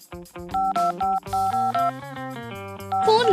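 Quick series of keypad beeps, each a short steady dual tone, from a locked phone as a password is punched in, with a brighter chirp at the end; close and clear with no talking.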